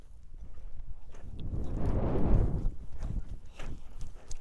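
Hooves of a horse being loped in a straight line across an arena, a soft uneven drumming of footfalls that swells and fades over a few seconds, with faint rustling around it and no talk.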